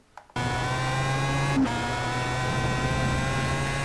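A Pro Mazda open-wheel race car engine at Interlagos in a racing video game: after a brief quiet start it bursts in loud and sustained at a high steady drone, with a small gear-change blip midway.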